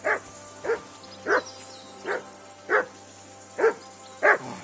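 Single barks from a dog in Kingdom Come 2 come at regular intervals. They sound close and clear against a quiet low hum, with no talking.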